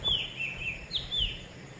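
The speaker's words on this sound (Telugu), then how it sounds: "కోయిల అరుపు" An Asian koel calls in the early morning with a few clear, rising whistled notes, moderately distant over a quiet background.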